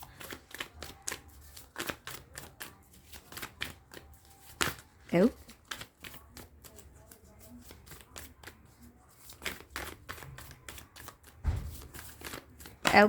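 Tarot cards being shuffled by hand, a long run of quick riffling, flapping bursts close to the microphone, with a voice speaking softly at times in between.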